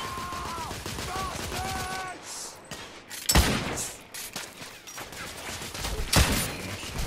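Gunfire in The Order 1886 video game breaks out as scattered loud shots and bursts, mixed with game effects and brief voice snippets at the start.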